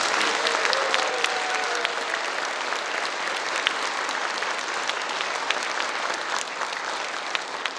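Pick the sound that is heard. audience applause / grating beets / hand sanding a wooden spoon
audience applause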